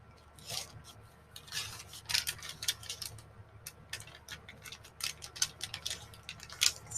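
Paper sheets folded in half for a junk journal make light crinkles, swishes and short crisp creasing strokes, close and fairly quiet, in irregular bursts with brief pauses.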